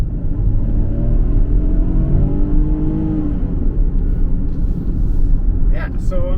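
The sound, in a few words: Ford Bronco Sport accelerating at full throttle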